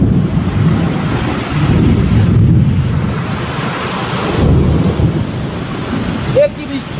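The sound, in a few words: heavy rain with thunder in a thunderstorm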